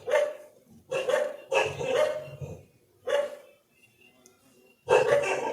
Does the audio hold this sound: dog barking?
yes